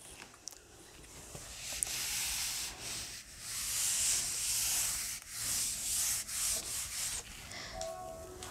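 Steady, close rubbing and scraping on a plastic gel casting tray for agarose gel electrophoresis in a lab, a continuous hissy friction that swells and dips with each stroke, with no talking.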